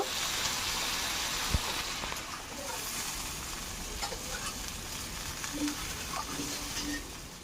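Rohu fish curry with potato and eggplant being stirred in a pot after the lid is lifted, a continuous bubbling sizzle with soft scraping, close and steady, with a single sharp knock early on.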